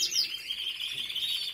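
Pet bird, a hen, gives a continuous run of rapid high chirps and trills, fairly close and steady in level, heard alone without talk.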